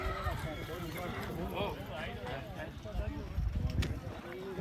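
Hooves of a Marwari horse clop in an irregular rhythm around a horse-show ring, moderately close, while people talk over it throughout.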